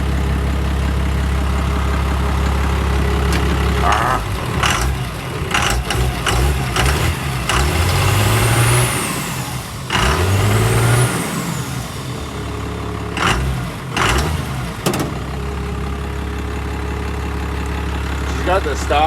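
A 1970 Fargo truck with a Cummins diesel on stock injectors, needing a fuel filter, idles loud and close with a steady low rumble, with a couple of brief rev swells in the middle.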